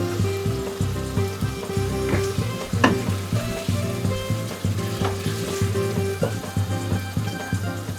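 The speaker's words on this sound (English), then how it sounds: "Just give it a good stir." Potatoes and peas fry in a pan while being stirred, with continuous close sizzling, rhythmic spoon scrapes and occasional sharper knocks against the pan, and no voices.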